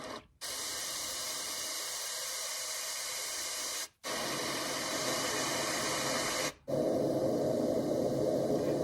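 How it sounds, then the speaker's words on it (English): A portable travel white noise sound machine plays its white noise setting, a steady, loud, broadband hiss that cuts out briefly twice as it switches between variations. "this is going to be like your white noise setting"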